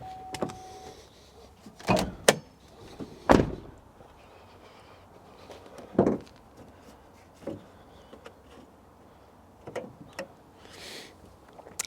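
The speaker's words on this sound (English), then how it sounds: "Let's pop open the bonnet and we can see what's on the inside" The bonnet of a Maxus eDeliver 9 electric van is released and lifted: a few sharp clunks and latch clicks, one solid thump, then lighter knocks and rattles spaced out, close by.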